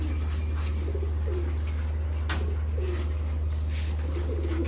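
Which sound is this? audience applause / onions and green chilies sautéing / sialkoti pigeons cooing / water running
sialkoti pigeons cooing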